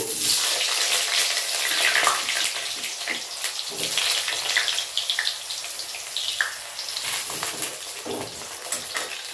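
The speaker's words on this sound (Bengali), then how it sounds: "ফোড়ন চুটপুট করে উঠেছে, এখন আমি দিয়ে দিচ্ছি আলু" Potato pieces dropped into hot oil right after a cinnamon, cardamom and cumin tempering has spluttered, frying with a steady loud sizzle and hiss, scraped and stirred now and then, with no talking.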